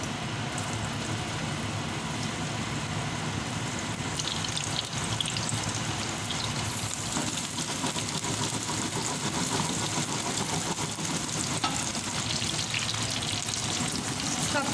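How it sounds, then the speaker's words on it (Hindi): Mutton koftas fry lightly in a little oil in a pan, giving a steady, close crackling sizzle that runs without a break throughout, with no voices over it. "अब मैंने ये ऑयल डाल दिया है थोड़ा सा पैन में और अब ये हल्के से फ्राई कर लूँगी"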